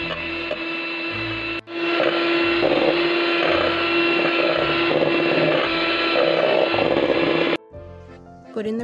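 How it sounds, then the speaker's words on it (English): Close, loud, steady whirring of a blender mixing cream cheese and milk for a cake, running for several seconds with a brief dip in pitch, then switching off near the end. "Blend."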